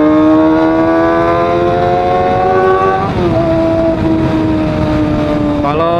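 A GTX 25R motorcycle on the road, its engine droning loud and steady with a sustained whining tone that dips in pitch at gear shifts, heard close from the rider's position.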